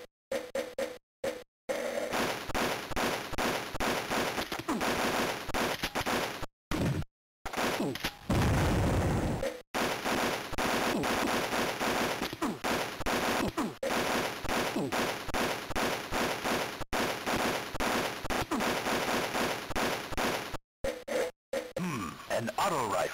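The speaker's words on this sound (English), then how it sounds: "An auto rifle." Rapid, harsh auto rifle fire from the Game Boy Color game Army Men, continuous chiptune-style bursts with short breaks, plus grunts and a booming blast midway, all loud and buzzy.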